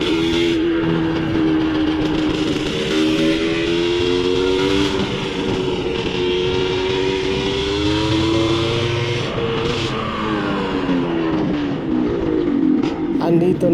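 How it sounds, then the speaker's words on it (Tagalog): A Rusi RXT135 two-stroke motorcycle engine rides into a warehouse, its loud, close note wavering in pitch as the throttle rises and falls for several seconds, with a brief low rumble midway and no talk. "pinasok ko na rin yung aking motor sa warehouse"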